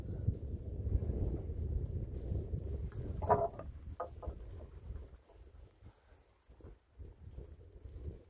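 Horizontal cupped-blade wind turbine, running without its generator in a light northwest breeze, gives soft, fairly regular clock-like ticks over a low rumble of wind.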